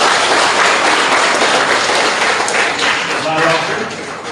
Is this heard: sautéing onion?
no